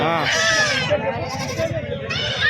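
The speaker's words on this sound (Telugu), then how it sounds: "పెద్ద సైజు మేకలు ఉన్నాయి" Large goats bleat in wavering, drawn-out cries close by at a livestock market, with people talking over and between the calls.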